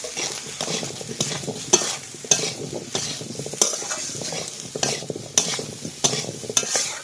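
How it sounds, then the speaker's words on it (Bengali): Taro (kochurmukhi) sautés in a pan, with a steady close sizzle and repeated scraping stirs of a spatula coming in irregular strokes every second or so. "বন্ধুরা কচুরমুখী কিন্তু কষাইতে বসিয়ে দিয়েছি।"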